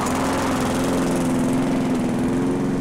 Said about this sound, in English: I'm just mowing the lawn.